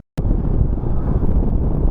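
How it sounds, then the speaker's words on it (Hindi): Strong wind roars steadily and loudly across the microphone during a mountain motorcycle ride on the road from Leh to Chiktan via Fatu La, a dense rushing buffet with no break. "इतना तेज हवा आ रहा है."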